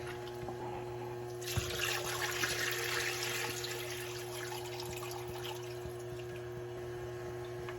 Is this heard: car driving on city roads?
no